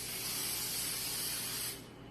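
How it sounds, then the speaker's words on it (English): Baking spray hisses from an aerosol can into a muffin tin in one continuous close burst lasting under two seconds, then stops abruptly, leaving a faint background. "you're going to spray all of the muffin things."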